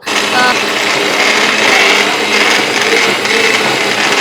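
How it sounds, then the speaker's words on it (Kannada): A kitchen blender grinds cooked tomatoes, running loud and continuous with a steady high whine for several seconds, no pauses. "ಸೊ ಆ ಟೊಮ್ಯಾಟೊನೂ ಕೂಡ ಹಾಕಿ ಒಟ್ಟಿಗೆ ಇವಾಗ ಇದನ್ನು ರುಬ್ಬೋದು"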